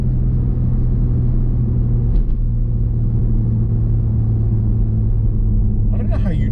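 BMW M3 Competition Touring xDrive engine pulls hard under acceleration, a loud, steady low drone heard from inside the car throughout, with a brief voice near the end.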